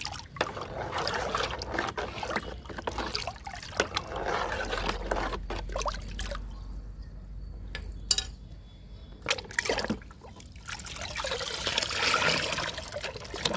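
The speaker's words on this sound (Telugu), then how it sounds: "బాగా కలవాలండి అరటిపండు గుజ్జు." Liquid sloshing and swirling as banana pulp is stirred into water, with trickling and splashing that fades briefly before picking up again.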